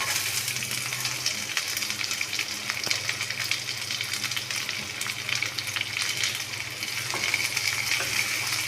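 Onions sizzle steadily in hot oil while being stirred, for a dhaba-style Punjabi moong masoor dal with a double tempering, with occasional scrapes of the spoon and no talking throughout.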